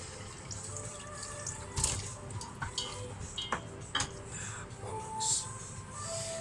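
Liquid is poured into a pot while chicken broth ramen with spicy ginger and garlic pork is cooked, a steady watery running sound with a few clinks and knocks around it, close by and fairly quiet.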